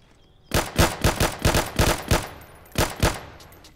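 Video game gunfire from a shooter, a rapid string of loud close shots in quick succession, then a short pause and two more bursts, with no talking.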